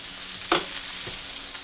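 Burgers sizzle in a frying pan with a steady hiss, joined by a brief scrape or stir near the middle, loud and close with no voices.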